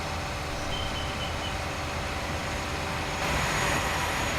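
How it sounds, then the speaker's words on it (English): A train rolls past on a main rail line through farmland in the Farming Simulator 19 video game, a steady loud rumbling drone with no pause that swells slightly toward the end. "These trains really are busy."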